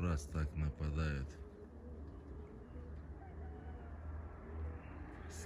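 Pigeons cooing and fluttering as a flock is sent up into the sky, with loud bursts of bird sound in the first second, then a steady outdoor wash with faint calls and distant noise.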